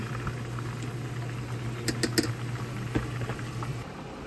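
Mini corndogs fry in hot oil with a continuous close crackling patter and occasional sharper pops, under a low steady hum.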